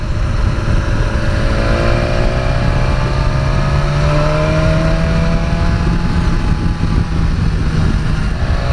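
A BMW S1000XR motorcycle engine drones steadily while riding through Bavaria, a loud close engine note with rising and falling pitch sweeps over constant wind rush.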